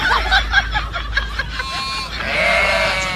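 A goat bleats in several wavering cries close by, first in short pulses and then in a longer drawn-out call, with faint background noise.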